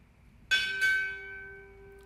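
Two strikes of a ship's bell at a Navy chief petty officer pinning ceremony, loud and close, each ringing note left to decay slowly over a low room hum.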